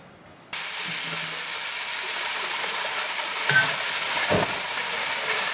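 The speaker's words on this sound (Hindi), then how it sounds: "इसको अच्छी तरह से भून लेना है ताकि इसमें एक मज़ेदार सी खुशबू आए और ये भुन जाए" Cumin and garlic-ginger paste fry in a pot for a Pakistani mixed-vegetable curry. After a short quiet moment, a loud, even hiss starts abruptly and holds steady to the end.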